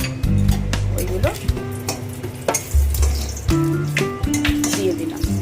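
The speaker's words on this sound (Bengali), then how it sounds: "এবার তেলের মধ্যে গোটা গরম মশলা যা নিয়েছিলাম ওইগুলো" Whole garam masala spices dropped into hot oil for chicken kosha, with loud, close sizzling and frying that swells in bursts, mixed with clinks and stirring, and a voice talking over it.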